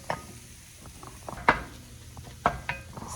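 Melting cheese for keto fathead pizza dough is stirred in a pan, with soft scraping and a few sharp utensil clicks against the pan at about one-second intervals over faint sizzling.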